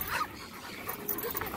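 Cane Corso dogs whimpering and yipping softly close by, short high whines breaking up a brief, noisy stretch with a faint voice in the background.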